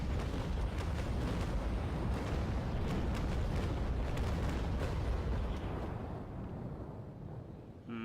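Ship cannon fire in the naval combat game Naval Action, a heavy broadside of overlapping booms merging into a loud, continuous rolling rumble that fades away near the end, with no talking.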